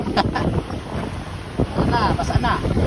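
Rough, churning waves and heavy wind noise buffet the microphone, with loud splashes slapping against a boat hull off Christchurch, New Zealand.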